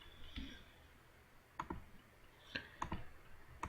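Sharp mouse clicks in a Yu-Gi-Oh video game, a handful of separate clicks spaced out over a few seconds, some in quick pairs, fairly close against a quiet background.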